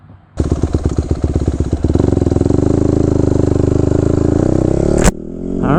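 A 2014 Honda CRF150R dirt bike engine fires up loud and close, chugging through a rapid rhythmic idle before settling into a steady high-pitched run for several seconds, then cutting off abruptly with a sharp clunk.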